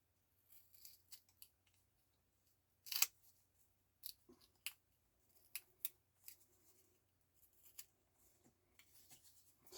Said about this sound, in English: get a pair of scissors and we'll cut this to match